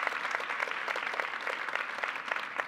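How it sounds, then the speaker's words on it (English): Audience applause fills a room at a community meeting, steady dense clapping from many hands, fairly close and loud, with no talk over it. "give her a round of applause."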